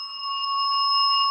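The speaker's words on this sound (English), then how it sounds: "Could you ring that bell?" A steady electronic bell or alarm tone rings continuously and loudly, holding three sustained pitches without a break, with no talking.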